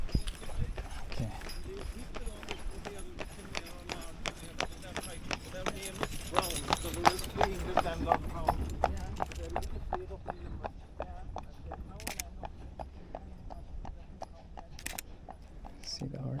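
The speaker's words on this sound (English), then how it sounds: "See the horses over there." Horses moving across open Irish countryside, their hooves giving a steady clip-clop rhythm over a constant outdoor rumble, moderately close and continuous throughout.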